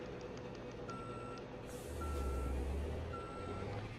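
Reversing beeper of a truck in Euro Truck Simulator 2, three steady evenly spaced beeps over a continuous diesel engine rumble that swells midway, with no talk.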